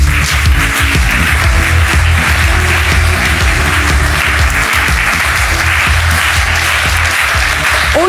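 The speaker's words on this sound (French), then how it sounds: "Encouragez bien nos candidats et applaudissez Ed et Eda." A studio audience on a children's TV game show stage applauds in a dense, loud, continuous wash of clapping that holds steady throughout.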